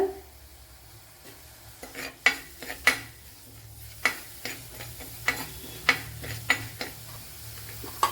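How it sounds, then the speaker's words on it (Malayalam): Cumin seeds frying in a little coconut oil, with a faint steady sizzle under a run of sharp metallic clinks and scrapes as a spoon stirs the pan. "ഇതിനെ ഒന്ന് വറുത്തെടുക്കുക"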